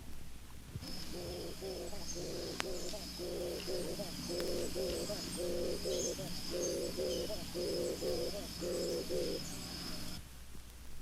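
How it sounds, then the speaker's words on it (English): An African bird's soft, deep bowing call, the kind a male gives while bowing to a female, repeats as a steady series of low cooing phrases, about a dozen in an even rhythm, close and clear over a faint background hum. "this bird has a soft, deep bowing call, which a male makes when bowing to a female"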